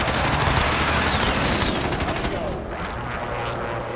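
Rapid gunfire rattles through a shooter video game, dense overlapping bursts of shots with a voice talking over the continuous fire.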